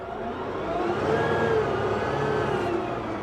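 Kioti PX series tractor engine held at a steady, fairly loud drone with a slight rise in pitch, as when revved to speed up the loader, continuous with no talk.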